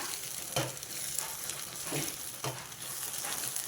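Mushroom masala curry sizzles and fries steadily in a pan as the thick masala begins to stick, with a few soft scraping stirs over the constant crackle.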